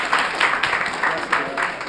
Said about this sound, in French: je vous appelle à applaudir.